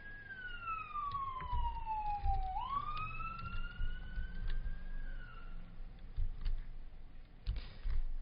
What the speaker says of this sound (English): I just realized there's a siren in the background.